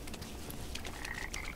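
Frogs croak in the video game Papo & Yo, a steady chorus of soft croaks over a faint ambient background, with no voices.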